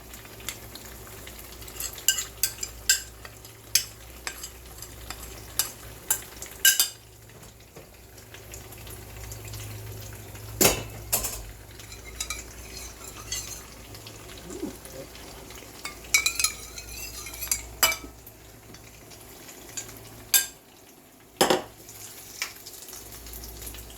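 Meat and vegetables are stir-fried in a pan, with scattered clinks and scrapes of a utensil against the pan over a low, steady sizzle. Louder knocks stand out now and then across the stretch, with no talking.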